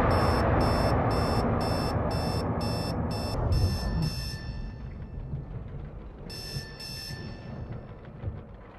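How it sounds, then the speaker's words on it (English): An alarm clock in the Batman: Arkham VR video game rings in a fast run of bright electronic beeps, stops, then sounds again in a shorter burst over a fading rumbling background. "throughout the game, you hear alarm clocks"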